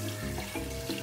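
Water pours and splashes steadily, a close, continuous rushing flow with no voices.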